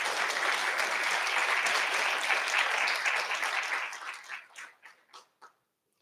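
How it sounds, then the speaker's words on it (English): An audience at a municipal mayoral debate gives the candidates steady applause, a dense crowd clapping that holds for a few seconds and then fades into scattered last claps. "Can we all give them a round of applause?"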